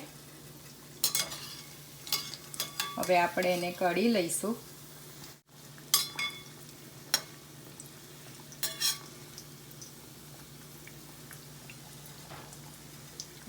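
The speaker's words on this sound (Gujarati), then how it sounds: "કાચા ના રહે એવી રીતે આ તળી ગયા છે મુઠિયા" Muthiya dumplings fry slowly over low heat in oil, a quiet steady sizzle with a few sharp clinks and scrapes of a spoon stirring the pan, while someone speaks briefly.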